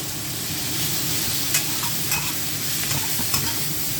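Shrimp and ginger sizzle hard in a stir-fry pan over high heat, a loud dense continuous hiss with a few faint scraping clicks, and no talking.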